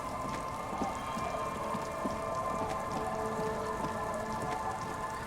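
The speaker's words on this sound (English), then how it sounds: "It's raining." Rain in a video game falls steadily as a soft patter with scattered drips and a low continuous hum, faint and unbroken, with no voices.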